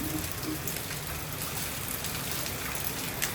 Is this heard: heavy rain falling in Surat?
yes